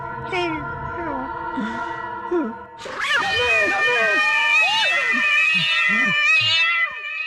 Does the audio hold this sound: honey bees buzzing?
no